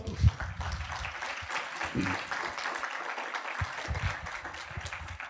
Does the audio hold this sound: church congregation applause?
yes